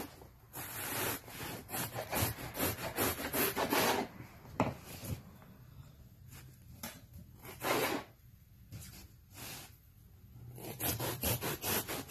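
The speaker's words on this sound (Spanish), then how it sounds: "lo que hago es cortarlo y voy a utilizar un cuchillo normal. Esta es una sierra, lo único que le saqué filo" A saw blade sharpened into a knife slices through upholstery cushion foam in repeated rasping, scraping strokes, close and fairly quiet, with pauses between cuts.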